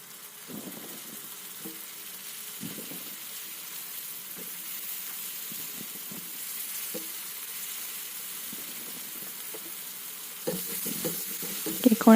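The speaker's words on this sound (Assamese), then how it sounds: "কেকৰাখিনি দিয়া হোৱাৰ পিছত আকৌ ভাজি লৈছোঁ।" Crab fries in a pan with ginger garlic paste, a steady soft sizzle broken by intermittent scraping stirs, closer and louder bursts near the end, no talk.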